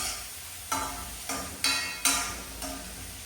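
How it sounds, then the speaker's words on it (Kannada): Vegetables for rice fry in a pan. Under a soft, continuous sizzle, a spatula scrapes and stirs in five evenly spaced strokes, each one a little louder and then fading. "ವೆಜಿಟೇಬಲ್ ಎಲ್ಲ ಚೆನ್ನಾಗಿ ಫ್ರೈ ಆಗಬೇಕು."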